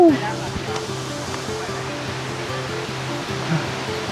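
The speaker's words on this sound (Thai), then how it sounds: "น้ำตกที่ซ้อนตัวอยู่" A hidden waterfall behind a Lahu village in Tak province pours with a steady broadband rush, while a voice and tonal sounds sit over the water noise.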